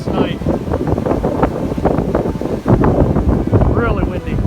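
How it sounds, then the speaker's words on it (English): Strong gusty wind buffeting the microphone outdoors, a rough, loud roar that swells and surges in uneven bursts while someone talks over it. "So as you can see, very windy on this side."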